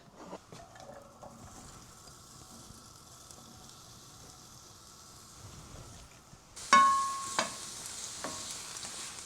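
Onions with red and other peppers hit a hot pan over medium heat, a sharp burst of sizzling that starts partway through, preceded by quieter kitchen clatter and stirring, then settles into steady frying crackle.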